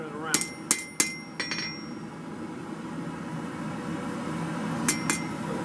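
Hammer blows ringing sharply on a steel blade during hand forging: four quick metallic strikes up front, a long pause over low shop noise, then two more close, bright hits.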